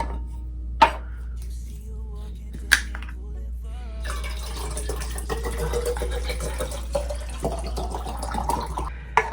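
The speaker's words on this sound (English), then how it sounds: "I like to fill up my little thing with water" A small container filled with water at a study desk: a couple of sharp clicks, then a steady, close trickle and pour that runs for several seconds, with light splashy variation and no talking.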